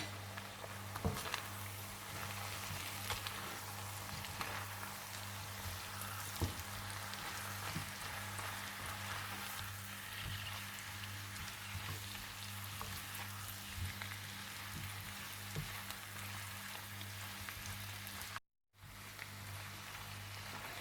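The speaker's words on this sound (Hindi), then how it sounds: "और थोड़ा सा भूनने के बाद आप इसमें डाल दें आलू और धनिया पाउडर और इन्हें अच्छी तरह से भून लें।" Potatoes with coriander powder fry in a pan, a faint, steady crackling sizzle with scattered small pops and occasional stirring, over a low background hum and with no talking.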